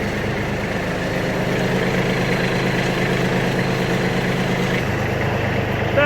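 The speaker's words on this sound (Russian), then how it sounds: "Это работа фрезы на первой скорости, на малых оборотах. Работает тихо, спокойно, без лишних звуков." Iseki Sial Hunter 22S 22 hp mini tractor with its rotary tiller running in first gear at low revs, a steady low engine idle with an even mechanical chug, near and continuous, quieter with a brief change near the end.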